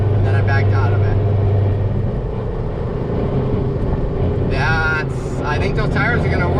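A car with a Stage 3 build winds up hard to about 7,500 rpm in second gear, a loud sustained engine roar with tire and road noise, while people talk over it throughout.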